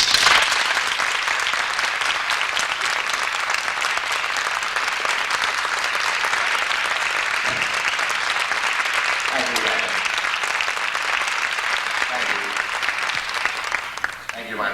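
An audience at a coffee house event claps loudly and steadily for the introduction of Ossie Davis. The applause holds for about fifteen seconds with some scattered whoops and voices, then thins at the end.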